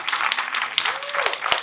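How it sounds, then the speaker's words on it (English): A poetry and theater reading audience claps for a designer in a short burst of scattered hand claps. A voice speaks over the clapping. "Thank you for clapping for Linda"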